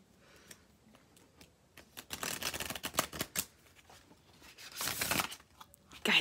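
A deck of tarot cards is shuffled by hand, giving soft rapid riffling bursts and papery flutters in several quick clusters, close and fairly quiet, with no talk.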